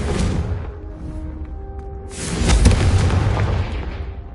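A Confringo blasting spell explosion in a Harry Potter video game: a loud deep boom with a fading rumble, then a second, bigger crackling blast that rolls on heavily, no voices.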